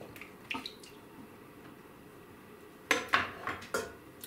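Six eggs cracked one after another against a small kitchen bowl for slow cooker French toast batter: a few sharp taps early on, then a quick cluster of four crisp cracks near the end, close and fairly quiet.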